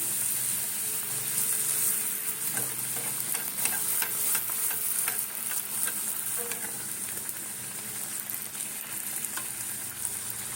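Fuchka dough rounds puffing in hot oil give a steady, moderately quiet sizzle and crackle with faint stirring ticks, continuous without talk.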